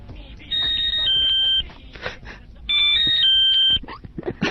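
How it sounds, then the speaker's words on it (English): A cell phone ringtone plays a few electronic notes from a pop song in two loud bursts, with talking and rustling in the gaps between them. "you probably want your cell phone to ring like this"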